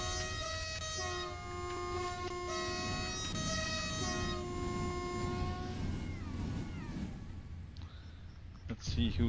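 Pendolino train in the SimRail video game passing with a long sustained multi-tone horn, then a rushing rolling roar as it goes by, loud and close.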